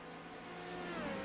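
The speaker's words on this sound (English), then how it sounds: "Getting the car wound up." A Proto-GT race car in the Thrustmaster Challenge at Canadian Tire Motorsport Park, its engine winding up with a steady droning whine that rises in pitch and swells slightly louder, heard from a distance without talk.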